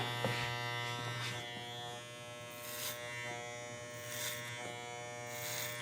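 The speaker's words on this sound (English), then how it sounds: "Riding that clipper, blending the front hair into the side hair" An electric hair clipper cuts hair over a comb, blending the front of a man's classic cut into the side. The steady, close buzz runs throughout, with brief brushing snips as the blade rides along the comb.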